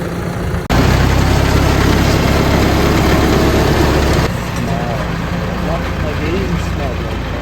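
A new tractor's heavy engine starts up abruptly on a dairy farm and runs with a loud, rumbling drone, then eases to a lower, steady chug as voices talk over it.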